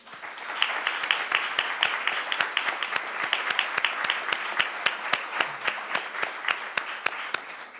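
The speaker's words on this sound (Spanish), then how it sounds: "Le ofrecemos un aplauso." A crowd at a church lay ministry and charity conference applauds steadily, with dense clapping throughout and sharper individual claps standing out toward the end.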